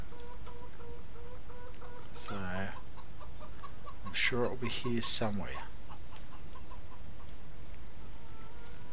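Chickens in Farming Simulator 17 cluck in a few short bursts near the middle, fairly close, over a steady game background hum, while someone talks briefly.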